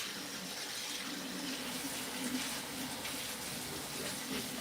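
Tap water runs steadily into a sink, rinsing juicer parts after juicing watermelon: a soft, continuous splashing hiss, fairly faint and unbroken.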